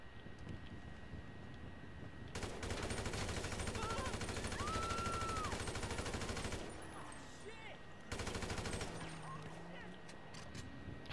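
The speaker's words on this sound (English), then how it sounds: "Assault rifle." Assault rifle fire in Grand Theft Auto 5 comes as long, loud automatic bursts with dense, rapid shots. Two sustained volleys are separated by a short pause.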